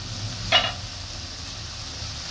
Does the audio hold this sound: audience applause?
no